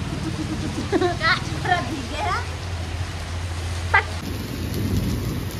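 Steady rain pours outdoors in cold weather, a close wash of drops with faint thunder rumbling underneath, while a few short voices and sounds break through near the middle.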